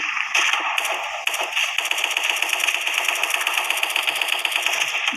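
Rapid automatic gunfire from a shooting video game rattles in fast, even bursts that run almost continuously, crisp and near, with no voices over it.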